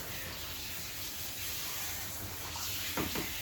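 Running water rinsing a short-clipped Shih Tzu during a grooming bath, a steady broadband hiss of spray that holds evenly throughout, with a few faint splashes near the end and no voices.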